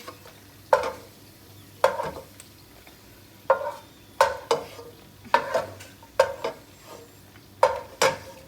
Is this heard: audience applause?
no